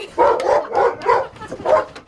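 A stud dog, a hyper male, barks loudly and repeatedly in quick bursts with brief yips between, close to the listener and without talk.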